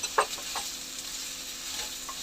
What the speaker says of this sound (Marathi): ह्याला पण सोबतच आपण थोडं परतवून घेणार आहोत.